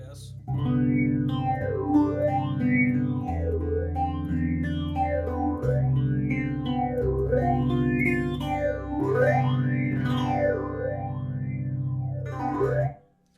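Guitar runs through a Mu-Tron Bi-Phase phaser pedal with its polarity switched, giving a loud, continuous sweeping whoosh that rises and falls in regular cycles over sustained, distorted chords until it cuts off abruptly.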